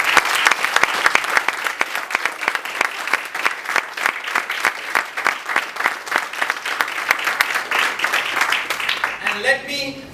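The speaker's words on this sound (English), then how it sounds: "A big round of applause for them." An audience at a Toastmasters club event gives a long, loud round of applause, many hands clapping in a dense, steady patter for about ten seconds before dying away as a voice begins.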